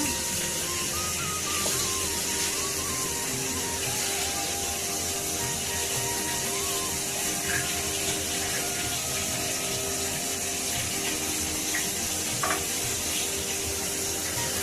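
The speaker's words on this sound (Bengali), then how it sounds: "এদিকে মাছ ভাজাও চলতেছে" Fish fries in a pan in a village kitchen, giving a steady, close sizzle that runs without a break under faint background sounds.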